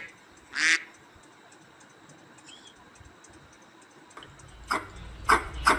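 A duck quacks alone in a short, loud burst near the start, then a few more quick quacks toward the end over quiet background.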